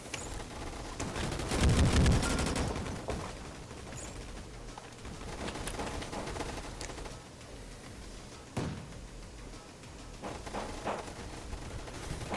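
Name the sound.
grenade launcher firing in Roblox shooter video game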